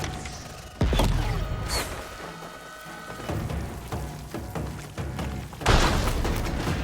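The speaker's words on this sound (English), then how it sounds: "Taking the shot! Firing!" A weapon fires in the video game Horizon Forbidden West, a loud close boom followed by scattered thuds and impacts, then another heavy blast near the end amid game sounds.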